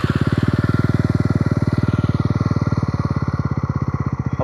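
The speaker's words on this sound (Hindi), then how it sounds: "अब मैं बाइक को स्टार्ट करता हूँ" A Yezdi Roadster 2026 motorcycle idles with an even, rapid thumping beat, loud and close, holding a steady rhythm throughout with a slight settling toward the end.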